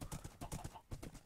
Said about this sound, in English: found these horses, brought them back